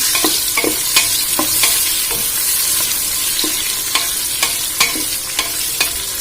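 Onions sauté in a pan for a Nellai-style mutton dum biryani, with a loud, close sizzle under repeated stirring scrapes that come at a steady rhythm and no talking.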